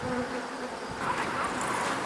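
Honey bees buzz steadily around a beehive on a honey farm, a dense, continuous close-up drone with no talk.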